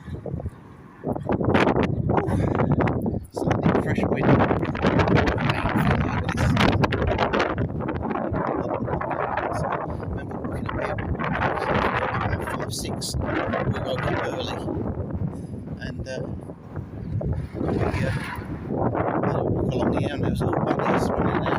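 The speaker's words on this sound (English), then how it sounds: "apologise about the wind, I'm afraid. It's very, very windy." Strong wind at Camber Sands buffets the microphone with loud, continuous rumbling gusts that rise and fall for the whole stretch, while someone talks underneath and is partly drowned out.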